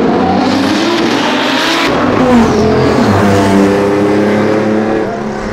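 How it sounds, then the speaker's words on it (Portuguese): A Chevrolet Opala and an Audi R8 V10 race past on the street, loud engines revving and roaring with rising and falling pitch as they sweep by close, the sound fading slightly at the end. "tá vindo um veículo automotor, tá vindo daqui, ele vai passar pra cá"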